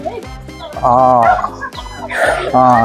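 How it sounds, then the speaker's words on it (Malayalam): A turkey at an open farm gobbles in loud, warbling bursts close by, with people talking around it. "എനിക്ക് ടർക്കി കോഴിയാന്ന് തോന്നുന്നു"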